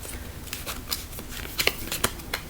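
Tarot cards being shuffled and drawn, giving a string of short papery flicks and slaps at an uneven pace, close and fairly quiet with no talking.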